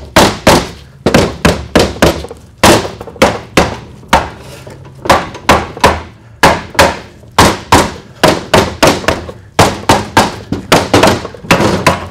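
A hammer pounds a Ford 4R100 transmission part in a fast, steady series of loud metallic thuds, each strike sharp and close, continuing without talk.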